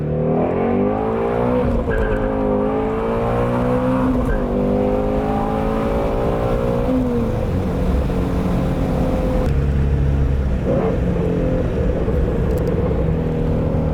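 Ford Mustang GT350 with a loud new exhaust accelerating, a deep roaring engine rising through the gears with a brief shift dip, close and continuous for the whole stretch with no talk.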